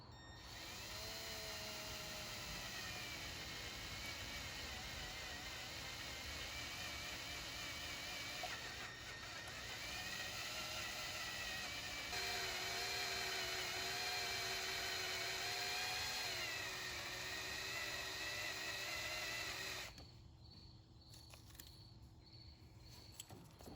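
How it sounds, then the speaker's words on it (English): A drill bit turns slowly into a bolt on a rear differential during disassembly, giving a steady, moderately loud whine and grind that shifts pitch as the bit bites, then cuts off near the end into quieter workshop noise. "I'm not gonna put the speed to this drill bit. We're gonna go ahead and just slowly go at this."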